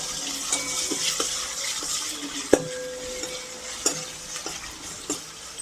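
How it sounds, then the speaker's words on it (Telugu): Ginger garlic paste and curry leaves stirred and frying in a pan, a steady sizzle broken by repeated sharp scrapes and knocks of a spoon against the metal, close up with no talk. "వేసుకొని అల్లం వెల్లుల్లి పేస్ట్ పచ్చివాసన పోయే వరకు కొంచెం కలుపుకుందాం."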